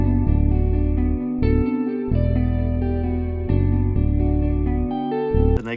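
Emotional guitar sample layered with a deep Kontakt bass in FL Studio, the bass with its highs cut sustaining root notes beneath plucked melodic guitar, steady and close, with no talking.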